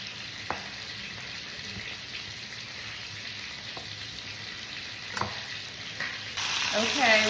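Food fries in hot oil with a dense, steady sizzle and occasional stirring clicks, growing louder and crackling more intensely near the end.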